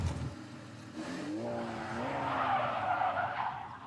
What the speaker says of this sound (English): he hit the gas pedal instead of the brake, causing an almost complete 360